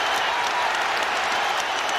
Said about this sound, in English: the fans who were booing him just a couple of weeks ago rise to their feet and cheer him now